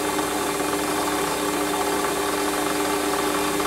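A steady machine hum with a faint tonal whine runs throughout as a lathe turns and a center drill bores into metal.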